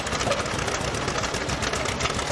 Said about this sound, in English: This is a tractor coming on here, it's an Australian-made tractor. It's a McDonald, and it's a very interesting tractor.